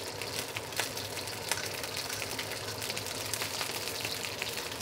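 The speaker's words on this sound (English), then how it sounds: "we're gonna continue to let that fried flavor develop by letting the fish continue to sit in that oil and continue to cook" A whole red snapper sitting in hot oil with garlic and ginger pieces, giving a faint, even crackle and sizzle that runs on without pause.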